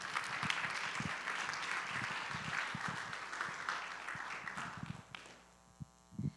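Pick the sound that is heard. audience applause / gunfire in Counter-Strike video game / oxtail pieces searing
audience applause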